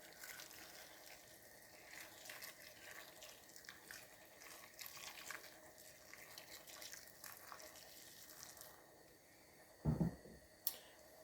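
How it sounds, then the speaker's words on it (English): Hot water poured from a kettle over potato peels while cooking, a steady soft splashing stream running for about ten seconds, followed by a couple of sharp clunks near the end. "Pour some hot water over it."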